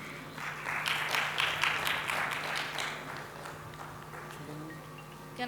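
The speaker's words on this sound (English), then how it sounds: "Can we please have a round of applause for them?" Audience applause at an Embrace Equity event at The LaLit Great Eastern hotel in Kolkata, a dense wash of many hands clapping that swells early, holds for a few seconds and then thins out toward the end.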